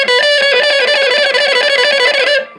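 Electric guitar played through a Randall RG80 combo amp, each note picked staccato with a crisp pick attack, reverb off; a steady run of bright, slightly effected notes rings out loud and close for over two seconds before cutting off.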